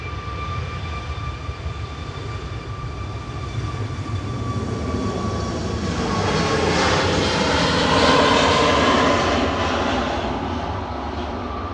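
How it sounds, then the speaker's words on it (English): An Airbus A380 pushes back at Manchester Airport with its engines running, a loud, steady jet roar that swells toward the middle and holds, alone without talk. "A380's pushing back."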